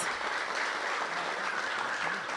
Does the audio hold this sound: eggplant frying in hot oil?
no